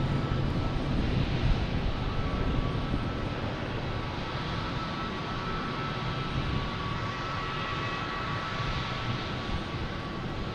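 Lufthansa airliner taking off at Logan Airport, a broad roaring jet engine rumble heard from a distance that holds steady throughout, with no talking.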